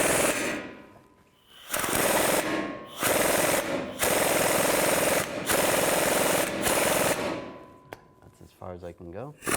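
Ball joint press being tightened to push out the front lower ball joint of a 2011-2014 Chrysler 200, heard as a loud, grinding mechanical noise in bursts broken by short pauses, ending in a few rapid clicks.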